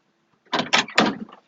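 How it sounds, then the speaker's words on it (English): A 1971 Datsun 510 door handle is pulled and the door unlatches and swings open, giving a few close, distinct clunks and clicks in quick succession, with no talk. "Now let me just get the door handle."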